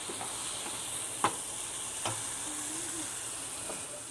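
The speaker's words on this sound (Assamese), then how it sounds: "এতিয়া মই ইয়াতে অলপ গৰম পানী দিম।" A steady, loud sizzling hiss from a hot pan after hot water is added to fried lentils for the Assamese dish muri ghonta, with a couple of faint clinks partway through.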